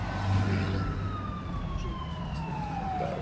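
Fire engines pulling out on a call in Arizona, their siren a clear wail gliding steadily downward, heard at moderate distance over low traffic rumble with no talking.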